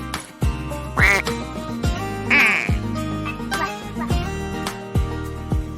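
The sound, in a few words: duck quacking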